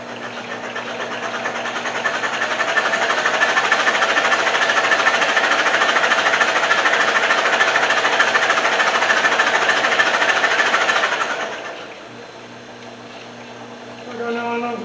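A Toyota 22R engine runs on a run-in test, giving a loud, steady, close mechanical drone with a fast knocking rhythm for about eleven seconds before it drops to a quieter idle.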